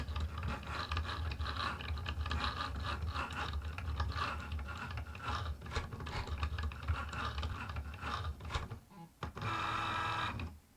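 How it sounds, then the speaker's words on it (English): A Cricut Joy cutting machine slices through faux leather on a mat, giving a steady close mechanical whir with scratchy, busy clatter from the moving carriage throughout, briefly dipping before resuming. "there you can see it has beautifully cut through the faux leather"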